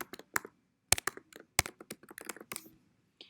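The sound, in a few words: typing a username on a computer keyboard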